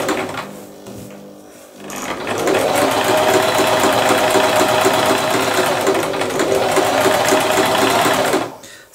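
A sewing machine stitches a seam in fabric, starting after a brief quiet moment and then running in a fast, even mechanical whir with rapid needle clatter for several seconds before stopping, close and clear.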